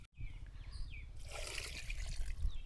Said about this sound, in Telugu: సెట్లోకి వేసుకొని కొంచెం వాటర్ అయితే వేసుకుందాం.